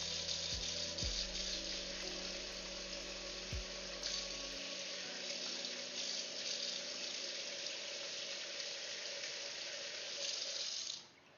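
Water runs steadily from a kitchen tap into a glass, a constant close rushing stream lasting about eleven seconds before stopping abruptly, with a few low clunks near the start.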